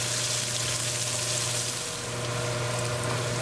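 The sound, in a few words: onion frying and sizzling in a pan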